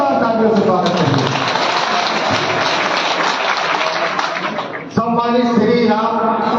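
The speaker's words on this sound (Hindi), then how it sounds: "जोरदार तालियों से स्वागत करिए।" Applause fills a political event hall as a guest is welcomed, a dense sustained clapping from a large crowd, loud and close, briefly dipping then swelling again, with voices mixed in.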